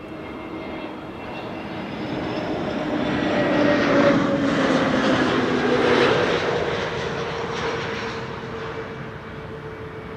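An EasyJet Airbus A320neo jet arriving at Amsterdam Schiphol gives off a rising and falling engine roar with a faint tonal whine running through it, peaking briefly and fading slowly, with no talking.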